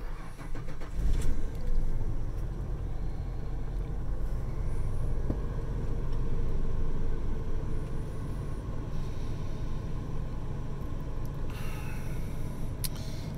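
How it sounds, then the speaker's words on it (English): A 1992–96 Ford F150 pickup cranks and fires up about a second in, then settles into a steady, close idle rumble that runs on to the end. "let's start the truck"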